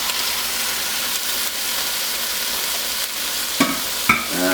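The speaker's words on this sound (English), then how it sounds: "now is the time we will return our vegetables to our stir fry" Chicken, shrimp and vegetables stir-fry in a pan with a steady, dense sizzle throughout, joined near the end by a few brief clinks and scrapes of a utensil against the pan.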